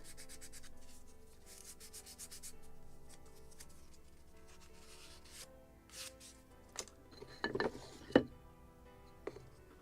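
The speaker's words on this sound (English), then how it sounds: "Well, it's still wet. Difficult to sand." Wet wood planking on a Model Shipways kit of the 1776 gunboat Philadelphia being sanded by hand, with steady close rubbing strokes that give way to a few sharper scrapes and clinks near the end, quiet and without speech.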